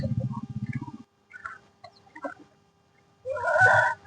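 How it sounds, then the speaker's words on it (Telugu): Farm fowl, turkeys and guinea fowl, call nearby: a rapid burst of low clucking gobbles, scattered soft chirps and clucks, then a loud harsh squawking call toward the end. "ఆ టర్కీ కోళ్ళు ఉన్నాయి, గిన్నె కోళ్ళు ఉన్నాయి."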